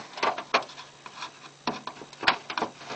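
Spot welds on a metal dormer vent screen being broken loose, heard as a series of sharp metallic snaps and clicks, several separate cracks spaced irregularly over a few seconds, close and moderately loud with no talking.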